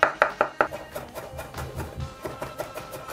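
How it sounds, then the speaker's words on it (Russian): A knife chops a head of garlic cloves on a board, a steady run of quick, sharp taps that start crisp and loud and then soften into a lighter, rapid rhythm. "Я буду все измельчать ножом."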